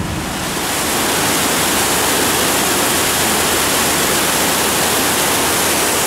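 A flooded stream, the San Lorenzo creek swollen after a storm, roars under a road bridge as a loud, constant broadband rush of water, steady throughout with no voices.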